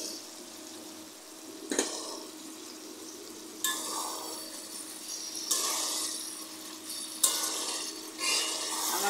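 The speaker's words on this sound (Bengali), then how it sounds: "এখন আমি একটু কষিয়ে নেব।" Winter vegetables and dried fish stir-fried in a pan, a steady sizzle broken by several scraping strokes of a spatula at uneven intervals, close and fairly quiet with no talking.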